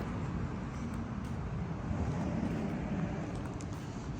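A 2009 Hummer H2 SUV passes by as a steady, fairly loud low rumble of engine and road noise, with some wind buffeting, continuous throughout and with no voices.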